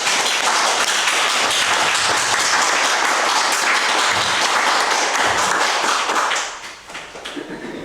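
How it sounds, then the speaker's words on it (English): Board members at a school district meeting applaud after passing a motion, steady dense clapping filling most of the stretch before tapering into a few scattered claps at the end. "Give yourself a round of applause."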